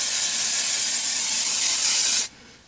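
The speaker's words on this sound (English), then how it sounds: "I'm taking this Four Reasons Dry Shine Spray" A continuous hissing spray from an aerosol can of Four Reasons Dry Shine hair spray, close and loud, lasting about two seconds before stopping abruptly.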